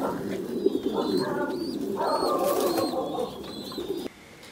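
Two young hen pigeons on a Vietnamese pigeon farm give deep rolling coos up close, mixed with higher chirping calls from other birds, before the sound drops away abruptly near the end.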